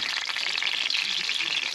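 Heart-shaped chicken and cheese empanadas fry in hot oil while being basted with a spoon, giving a steady, dense crackling sizzle close by.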